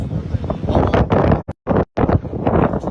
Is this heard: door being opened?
no